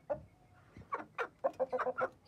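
A rooster clucks and squawks in a run of sharp, close calls as it is grabbed and caught, with scuffling between the bursts.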